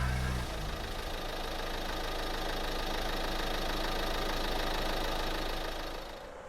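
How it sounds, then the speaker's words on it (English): A truck engine putters and knocks in a steady, rough idle that runs throughout, then fades out at the very end. "We hear the truck start to putter"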